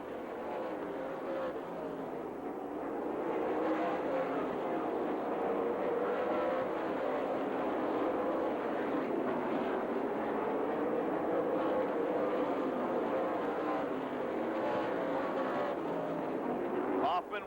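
NASCAR stock cars roar in a continuous pack around Rockford Speedway in Illinois, a steady engine drone heard from a distance under a commentator's running call.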